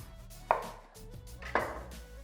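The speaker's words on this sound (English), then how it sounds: "I'm slicing my melon the same size as I have the mangoes and the kiwis" A knife slices through a quarter of a melon on a board for a fruit salad, giving two distinct crisp cutting strokes about a second apart, close and clear against a quiet background.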